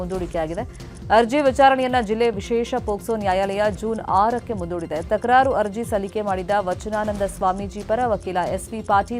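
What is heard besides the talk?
None of the usual background noises is heard.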